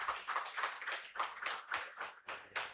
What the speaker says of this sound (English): Guys, clap for them.